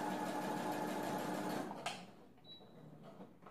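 A sewing machine stitches scrap fabric with the presser foot lowered. Its needle runs in a fast, steady mechanical whir for a couple of seconds, then stops, leaving a faint background hum.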